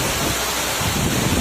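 Spray and rushing water at Kakochang Waterfall on a rainy day form a loud, dense, unbroken roar that fills the short stretch.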